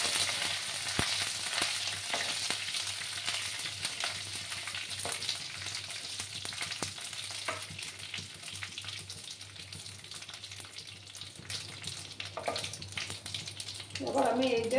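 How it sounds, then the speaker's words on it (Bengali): Curry leaves fry in hot oil for a cucumber moong dal, giving a steady, close sizzle broken by occasional stirring clicks and a brief bubbling flare near the end. "কারি পাতাগুলোকে একটু ভালো করে ফ্রাই করে নিচ্ছি আমি।"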